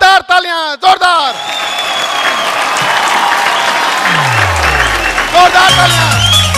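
An audience claps loudly to welcome Double Diamond Mr. Nihal Singh onto the stage at a business gathering. Sweeping musical tones and a voice sit over the steady clapping.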